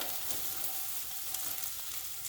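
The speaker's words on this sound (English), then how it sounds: "and then keep on frying it." Okra for bhindi masala frying in an open pan over a high flame, with a soft, steady crackling sizzle throughout and no talking.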